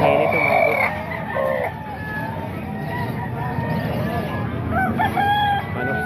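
Roosters for sale at a Baliwag, Bulacan market crow loudly and repeatedly among clucking chickens, with steady crowd noise and talk underneath throughout.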